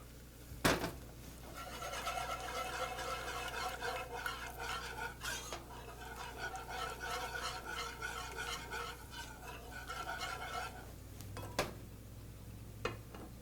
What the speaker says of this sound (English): We're going to whisk this for about 2 minutes